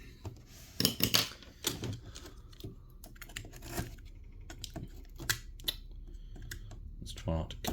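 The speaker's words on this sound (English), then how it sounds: "Let's try not to cut the box, just the tape." Packing tape being sliced on the box of a Jada RWB Porsche 911 1/18 scale diecast model car, a series of close clicky scrapes and crinkles with some faint rustling in between.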